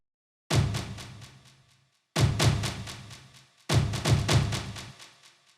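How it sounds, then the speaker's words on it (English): Three big booming drum hits, each with a long decaying reverberant tail, spaced about a second and a half apart. "And this orchestral drum hit."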